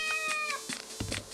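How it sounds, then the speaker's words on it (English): A cat meows twice, close and clear, with a rising then falling tone and a small rustle between the calls. "This is a cat."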